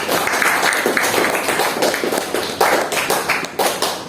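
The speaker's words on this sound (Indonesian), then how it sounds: "tepuk tangan untuk semua kelompok" Classroom applause for all the student groups during a teaching practicum session, a steady patter of clapping hands from a small group, moderately loud and continuous throughout.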